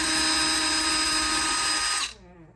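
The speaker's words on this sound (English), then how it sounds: "we'll go ahead and use our drill, and you want to put it in reverse" A cordless power drill runs in reverse, backing screws out of a touch-screen door lock, with a steady high whine for about two seconds before it stops abruptly.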